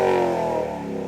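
A supercharged LS9 V8 in an HSV GTS-R W1 revs hard, its loud, close exhaust note a dense harmonic roar that sweeps and settles within a second.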